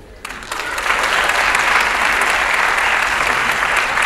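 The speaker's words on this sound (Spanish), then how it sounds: "Aplaudan a los que les salió bien." Audience applause at a stand-up comedy show, a sudden burst of clapping that swells within a second into loud, sustained applause from a full room.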